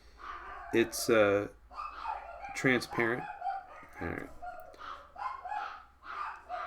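Several dogs bark at a delivery or trash pickup outside, sharp loud bursts with whimpering tones, repeated through the stretch while a person talks over them.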